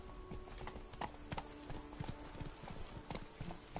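Hooves of Roach, a horse in The Witcher 3: Blood and Wine, clip-clop steadily at a walking pace against a continuous background ambience, with no talk.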